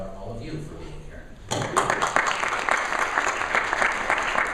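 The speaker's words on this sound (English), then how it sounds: "I'd like to applaud all of you for being here" A classroom audience breaks into applause after a short stretch of quiet talk, the clapping starting abruptly and continuing as a dense, sustained patter of many hands.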